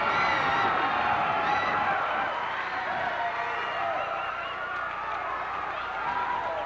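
Wrestling arena crowd cheering and yelling in a dense, continuous roar that fills the hall, loud and sustained throughout.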